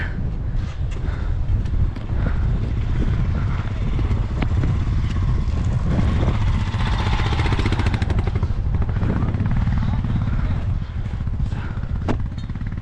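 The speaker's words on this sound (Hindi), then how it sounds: "अब अपना बाइक निकाल लेते हैं।" A motorcycle engine revs and labors as the bike is ridden out through snow on a mountain road in North Sikkim, a loud close throaty drone with clattering and wind buffeting.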